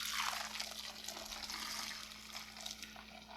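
Homemade cashew milk pours from a Vitamix blender into a straining bag, a faint, steady trickling and splashing of liquid over a low electrical hum.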